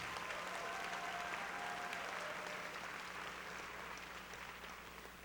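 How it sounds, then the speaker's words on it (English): A graduation ceremony audience at Wilson Magnet High School applauds its school faculty: a dense, sustained wash of clapping from a large crowd that holds steady and eases off slightly toward the end. "Let us give it up for our school faculty for making a difference"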